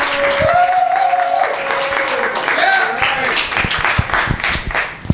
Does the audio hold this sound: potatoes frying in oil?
no